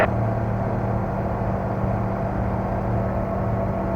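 A light aircraft engine runs at full power: a loud, steady, close drone with a deep rumble that holds evenly throughout, and no voices.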